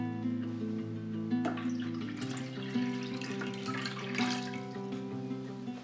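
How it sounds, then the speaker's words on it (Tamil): Water pours steadily into a home water filter, a continuous trickling and splashing that holds an even level throughout, with no voices. "வாட்டர் ஃபில்டரில் தண்ணி ஊற்றி வச்சிடலாம்."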